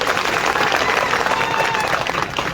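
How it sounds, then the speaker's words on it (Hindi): A crowd at a political rally in Bihar applauds with dense, steady clapping that fills the whole stretch, with a mix of voices underneath. "ताली बजाइए लोग।"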